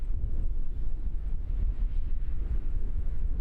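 Gusty wind buffets the microphone at Christchurch Airport, New Zealand, a loud, low, continuous rumble that surges and eases unevenly with no voices.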